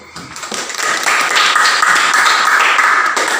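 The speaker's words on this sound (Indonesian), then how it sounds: "Kita beri aplaus dulu" Classroom applause from students for a group that has just finished presenting, a dense steady clatter of hands that builds quickly and holds loud and close to the end.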